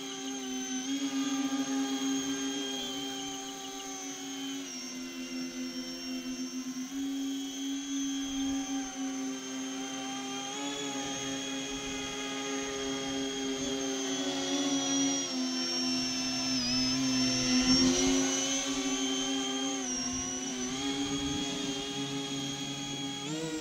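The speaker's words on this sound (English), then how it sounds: "This plane actually flies pretty fast in vertical" A small plane flying fast in vertical climbs gives a continuous high, buzzing motor whine that rises and falls in pitch for the whole stretch, steady and fairly loud with no voices.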